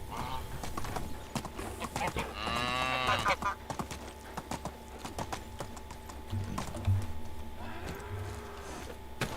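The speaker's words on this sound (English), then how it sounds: "That's one angry cow." An angry cow in the medieval survival game Medieval Dynasty gives a long, harmonic moo, close and loud. Hoof clops, game ambience and a few shorter low grunts surround it.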